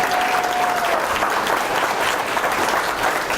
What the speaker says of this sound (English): How many people would agree by a round of applause?